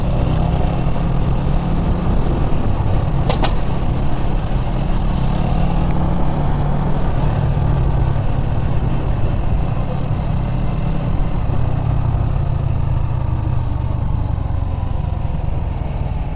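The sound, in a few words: street traffic, cars and motorcycles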